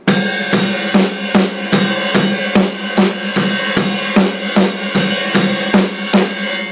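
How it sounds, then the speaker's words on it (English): A steady drum beat with a shimmering ride cymbal over regular kick and snare hits, played at a moderate, even tempo. "we talked about taking our right hand and moving it over to the ride cymbal"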